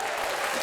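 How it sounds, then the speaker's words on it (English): A short, dense burst of applause plays at full loudness, bright and uniform like a canned crowd clapping effect, cut off abruptly after under a second. "Cue in applause."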